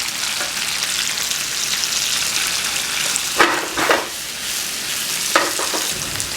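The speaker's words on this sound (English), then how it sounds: "all I want for this is for my onion to be softened and cooked" An onion softens with salt in a pan, giving a steady, close sizzle and fry throughout, with a few brief stirring scrapes over the crackle.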